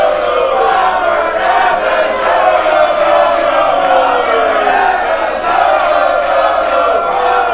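Loud wrestling crowd at an Inspire Pro event, a dense sustained roar of shouting and chanting voices with rising and falling cheers throughout.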